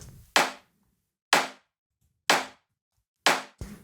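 Four sharp, punchy layered snare-and-clap hits in a melodic techno style, spaced about a second apart, each with a quick bright decay, followed by a fifth softer hit.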